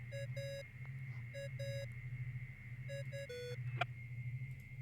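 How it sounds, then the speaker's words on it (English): In the Genshin Impact video game, a Dodo communication device rings with repeated electronic beeping phrases in short bursts, over a steady low game hum and sustained tone, with no voices. "What's that ringing?"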